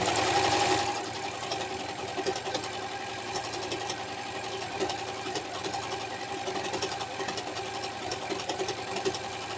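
A Singer S010L budget household overlock machine stitching stretchy knit fabric, a steady fast mechanical whirr running continuously and close, with a louder burst at the start, no talking.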